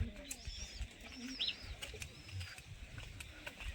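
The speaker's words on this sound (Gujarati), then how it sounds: "હવે આના બધા કબૂતર ક્યાં છે હું તમને બતાવું" Racer and cross-racer pigeons coo softly at an outdoor loft in a neighbouring farm plot, faint and distant, with a few light chirps and outdoor background noise.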